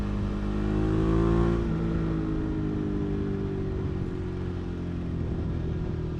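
A 2019 Suzuki V-Strom 650 motorcycle engine revs up with a rising exhaust note, then eases off into a lower, steady drone as it cruises.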